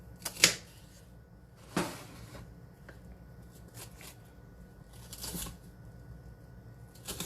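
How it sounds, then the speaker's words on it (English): A knife cuts a red pepper into bite-sized pieces on a board, with a few sharp, isolated chops and scrapes spaced a second or more apart against a quiet kitchen background. "we're going to cut this red pepper"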